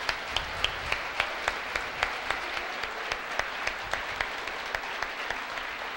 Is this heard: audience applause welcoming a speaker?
yes